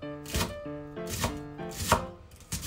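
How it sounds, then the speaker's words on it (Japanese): A kitchen knife thinly slices daikon radish on a cutting board, producing four close, crisp, evenly spaced chopping strokes with no talk. "こうちっちゃく薄切りっていうんですかね、こういう風に切っていきます。"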